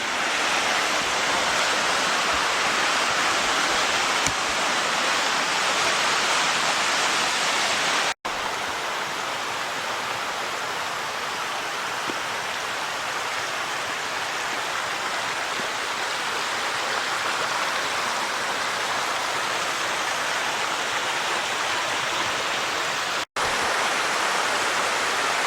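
Small waterfalls rush along a creek trail at Mill Creek Falls, giving a steady, loud, broadband roar of falling water that holds unbroken and alone for the whole stretch.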